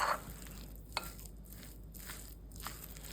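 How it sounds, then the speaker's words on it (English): Super firm tofu stirred in a hot pan, giving a soft steady sizzle with a few faint scraping and crinkling touches, close and quiet with no talk. "And we'll give that a stir."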